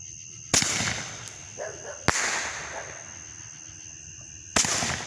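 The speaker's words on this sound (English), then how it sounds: "This thing is about 2 foot long, big bore, 8 shot by Legend Fireworks." An 8-shot, big-bore fireworks candle by Legend Fireworks fires three sharp, loud reports spaced a couple of seconds apart, each followed by crackling and a fading rumble outdoors.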